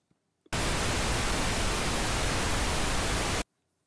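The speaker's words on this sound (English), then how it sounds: "We can also take a static signal like white noise or pink noise." A burst of pink noise, a steady hiss that switches on abruptly, holds at constant loudness for about three seconds, then cuts off into near silence.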